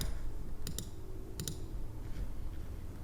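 A computer mouse clicks while a flyer is edited in Canva, two quick double clicks close by over a faint room hum, with no talk.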